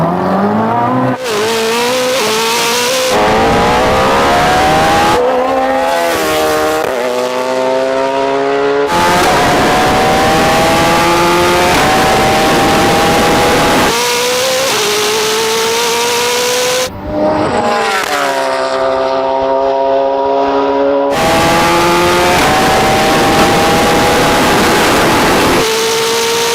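A Koenigsegg Jesko and a supercharged Suzuki Hayabusa drag race, engines screaming up through the gears in loud rising sweeps with sharp shift breaks, close and continuous for the whole run.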